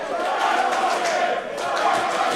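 A wrestling crowd cheering during a pro wrestling show, a dense, steady roar of many voices filling the hall with swelling shouts, loud and continuous throughout.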